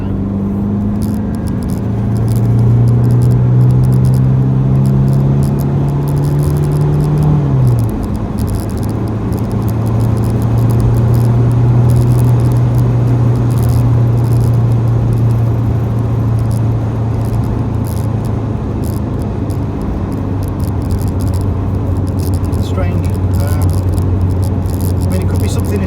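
Rover Maestro 2-litre turbo diesel car driving after a downshift into third gear, with a steady droning engine hum whose pitch drops sharply around the gear change and then holds level, heard close from inside the cabin.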